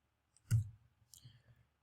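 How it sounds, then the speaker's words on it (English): A computer mouse button clicked twice, each a short, close, quiet click separated by a brief pause against near silence. "Use your left mouse button to orbit the content like so"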